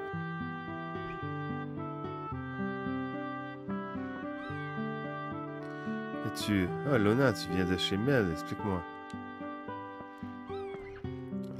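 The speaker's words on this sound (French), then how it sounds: "Qu'est-ce qu'il y a? C'est juste un chat." Cat meowing in the video game Chrono Cross, mixed with background game music while someone speaks French over it, with a few louder, wavering cries in the middle.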